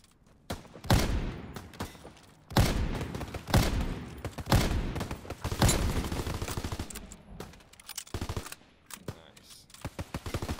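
Bursts of light machine gun fire from a Call of Duty zombies match, several rapid-fire volleys of varying length separated by short pauses, loud and close, with a faint voice in places.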